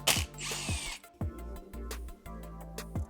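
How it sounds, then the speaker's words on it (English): An impact screwdriver works on a blown-up Kawasaki KX80 two-stroke dirt bike engine, giving several short bursts of rapid mechanical rattling and hammering, close and distinct, with brief sharp metallic clicks between them. "An absolute must-have tool if you're working on bikes is an impact screwdriver."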